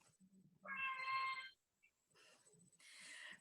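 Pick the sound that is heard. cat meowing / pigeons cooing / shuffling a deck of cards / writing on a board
cat meowing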